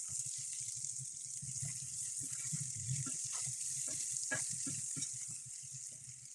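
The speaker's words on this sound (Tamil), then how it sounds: "உப்பையும் போட்டு வதங்க" Onions sautéing with salt in a pot for a Jaffna-style deer meat curry, heard as a steady close sizzle with irregular stirring scrapes and soft knocks throughout, without speech.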